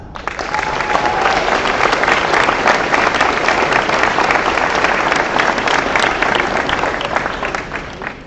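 Sustained audience applause at a middle school eighth grade graduation ceremony as a student is honored, steady, dense clapping throughout, fairly loud and continuous.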